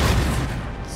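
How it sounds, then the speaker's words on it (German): Cannons firing in a Napoleonic-era battle in Napoleon: Total War, a dense, rumbling barrage of heavy booms that blur together into a continuous low roar, loud throughout and gradually thinning. "So, die Kanonen schießen."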